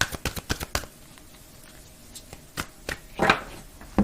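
A deck of oracle cards is shuffled and cut by hand, giving quick riffling slaps in a rapid run, then a few isolated soft taps and a final snap, close and alone with no voices.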